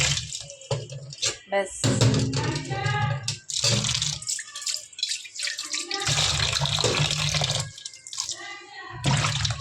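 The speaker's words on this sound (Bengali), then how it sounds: "প্রথমে একবার ধুয়েছি, আবারও একটু ধুয়ে নিচ্ছি।" Running tap water splashes over chopped pointed gourd pieces as they are rinsed in a kitchen, with intermittent bursts of flowing water and someone speaking between them.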